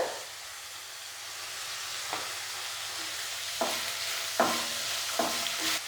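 Onions with turmeric and asafoetida fry in a pan over a medium flame for masala dosa filling, a soft steady sizzle broken by several sharp stirring scrapes and clinks.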